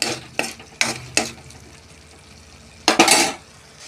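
A spoon stirs tomato masala with salt in a pan: four quick scraping strokes, a short pause, then a louder scrape close by, with no talking.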